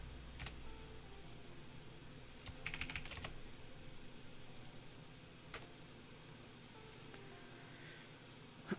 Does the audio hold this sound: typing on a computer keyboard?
yes